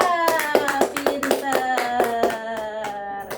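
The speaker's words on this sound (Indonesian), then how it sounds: "tepuk tangan buat Zohra." Schoolchildren clapping together in a rhythmic group pattern during a classroom lesson, with a sung or chanted tune running over the steady beats of the claps.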